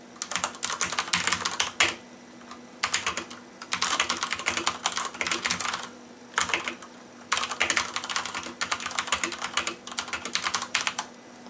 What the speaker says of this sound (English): Now I said that these are Cherry MX Red mechanical keys that are being used